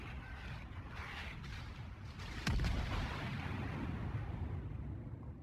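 Secondary guns of the German battleship King Albert booming in World of Warships, a sharp blast landing amid a constant rumbling roar of battle and engine noise.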